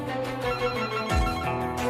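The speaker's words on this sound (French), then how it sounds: "Le téléphone retentit dans le bureau de Raphaël Nedilko." An office telephone rings loudly and close, a tonal electronic bell tone sustained with a sharp low thump partway through, heard alone without voices.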